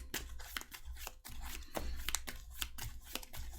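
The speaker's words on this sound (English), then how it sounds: "Shuffle this up." A deck of Marvel Champions cards is shuffled by hand at close range, a run of crisp riffling bursts with brief pauses between them and no talk.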